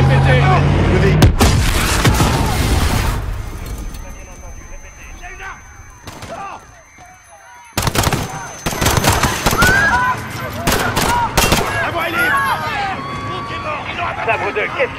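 Gunfire and explosions in the Call of Duty Modern Warfare campaign, with dense bursts of shots, a heavy blast and a brief quiet gap before more rapid firing, mixed under shouted voices speaking throughout.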